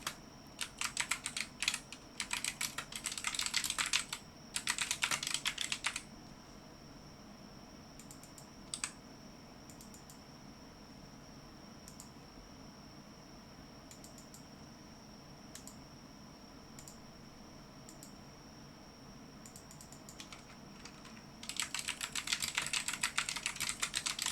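Bursts of rapid typing on a computer keyboard, with fast clicking at the start and end and a few isolated keystrokes between them over a quiet room hum and a faint steady tone.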